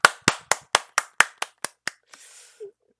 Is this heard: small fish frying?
no